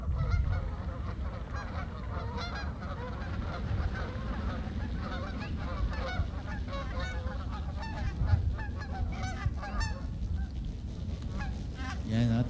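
A flock of geese honking continuously, many overlapping nasal calls from birds in flight, steady and fairly distant over a low rumbling background.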